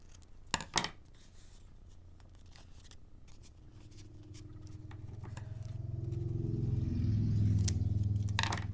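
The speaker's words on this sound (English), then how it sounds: "But now I'm going to trim these edges." Scissors snip the edges of handmade faux leather with two quick crisp cuts near the start; a low rumble then swells up and dominates the rest of the clip.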